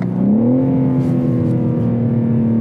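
A 2023 BMW M3 Touring G81 engine revs up, its pitch climbing quickly and then holding a loud, steady, throaty drone close by.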